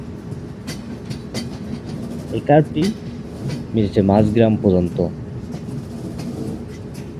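Chilahati Express train running on rails, a steady rumbling roll with rhythmic clicks of wheels over rail joints throughout, while someone talks over it in the middle.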